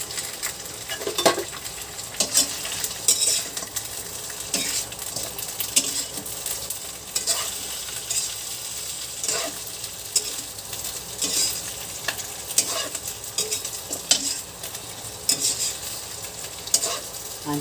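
Tuna frying in a home kitchen pan for afritada, a steady close sizzle with intermittent scraping stirs and utensil clinks throughout, no voices.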